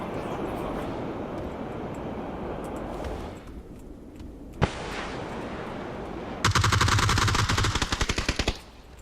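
Bursts of gunfire in the battle royale video game PUBG Battlegrounds: a single sharp shot, then a rapid automatic volley near the end, with a rumbling game soundscape between and no audible talk.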